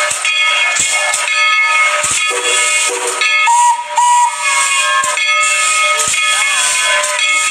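A loud, continuous hiss of a toy train's steam whistle with shifting whistle tones, steady throughout with brief sharp clicks.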